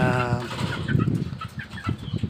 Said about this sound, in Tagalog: may bago naman tayong manok, no?